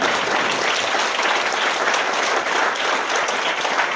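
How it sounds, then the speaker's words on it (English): A roomful of people applauding military veterans at a political campaign event, continuous dense clapping that holds steady and loud from start to finish. "can we give these folks a round of applause?"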